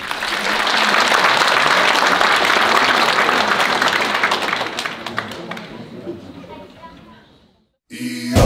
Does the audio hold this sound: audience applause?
yes